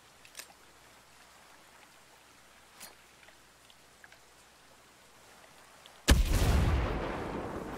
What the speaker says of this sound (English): I feel like that was a waste of a frag.